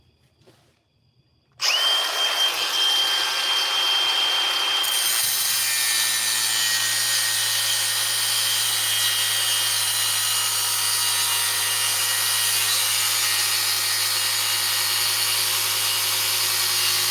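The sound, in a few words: sawing a workpiece clamped in a vise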